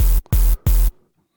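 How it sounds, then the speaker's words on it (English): An Elektron Model:Cycles plays a noise bass: three loud, short, buzzy hits, each cut off sharply, then silence. "add some noise"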